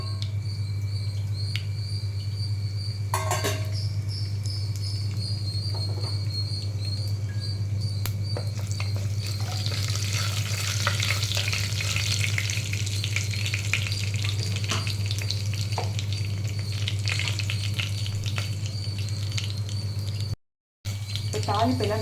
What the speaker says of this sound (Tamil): இப்போ வந்து ஆயில் சூடானதுக்கப்புறம் நம்ம தாளிப்புக்கு வச்சுருக்கோம்ல, கடுகு, உளுத்தம்பருப்பு, வெந்தயம்,